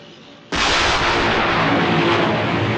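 A vehicle-mounted gun fires at a control vehicle through dusty terrain: one loud, sudden blast that rumbles and holds as a sustained roar for over two seconds, with no talk over it.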